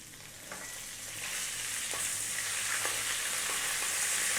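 Fresh curry leaves hitting hot oil in a pan over above-medium heat, a bright, dense sizzle that swells after the first second and keeps crackling steadily, with a few sharper pops along the way.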